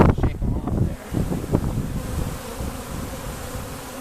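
Honeybees from a newly installed package hive buzz close to the microphone in a dense, droning swarm, with gusts of wind noise and some handling bumps early on.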